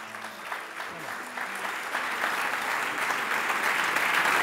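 Audience applause in a hall as a professor is welcomed onto the stage at a talk on back pain, steady dense clapping that swells slightly and holds throughout.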